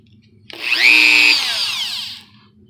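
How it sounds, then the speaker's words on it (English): Dremel rotary tool fitted with a sanding wheel whines up to a high pitch and grinds against a Star-Lord walkman prop piece for about two seconds, close by and fairly loud, then spins down, with no talk. "I used my Dremel cutting wheel to cut out the initial shape here."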